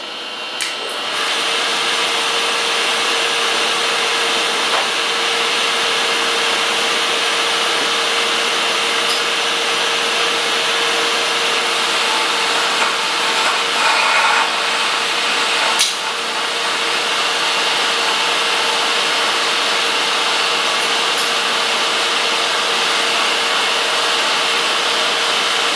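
A metal lathe takes a 25-thousandths boring cut with a boring bar under automatic feed at 3 thousandths per revolution, giving a steady, loud whirring machine drone with a constant tonal hum that runs unbroken for the whole stretch.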